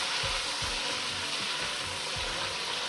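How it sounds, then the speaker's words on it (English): Ginger garlic paste frying in makeshift ghee for lamb nihari, a steady broadband sizzle with a few low scraping knocks from stirring, close and continuous with no talk. "add into this makeshift ghee ginger and garlic paste, and we'll quickly stir this for a couple of minutes."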